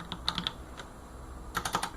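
Light keystrokes on a sensitive computer keyboard come in two quick clusters, a few scattered taps early and a faster burst near the end, close and crisp.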